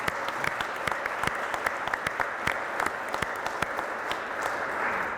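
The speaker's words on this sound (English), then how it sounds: "You can definitely clap for that." Steady applause from an audience at a Richmond jobs announcement for a software company's new operations center, dense clapping sustained throughout with a few sharper individual claps standing out.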